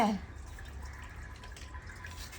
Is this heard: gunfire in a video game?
no